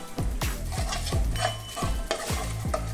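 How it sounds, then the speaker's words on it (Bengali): Asafoetida, dried chillies and nigella seeds fry in hot oil with a steady loud sizzle. A spatula scrapes the pan in quick, rhythmic strokes, about two or three each second, close up and with no voices. "তাই একটু হাফ চামচের মতো একটু হিং দিয়ে তেলের সাথে হিংটাকে সুন্দর করে ভেজে নেব।"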